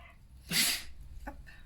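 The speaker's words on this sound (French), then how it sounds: "ça c'est mon chien" Pet dog making a short sharp snort or sneeze-like huff followed by a softer breath, close to the microphone in a quiet indoor room.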